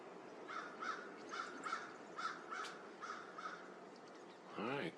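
Crow cawing repeatedly in a steady rhythm during a Minnesota blizzard, harsh calls moderately loud over constant wind noise, ending with a brief burst of another sound.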